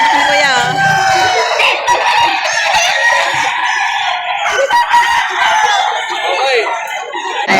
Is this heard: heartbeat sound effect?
no